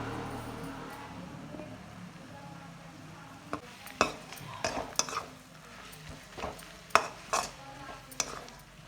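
Mushrooms tossed with turmeric in a pan: soft steady sizzling underneath, with a series of scraping stirs and spatula clinks against the metal that grow busier midway, close by and fairly quiet.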